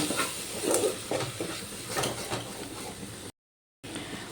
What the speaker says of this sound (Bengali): এবার আমি সব মশলাগুলো ভালো করে কষিয়ে নেব